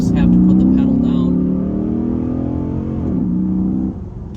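Chrysler 300C SRT8 under hard acceleration, a loud, close engine roar whose pitch climbs and holds before dropping off sharply near the end.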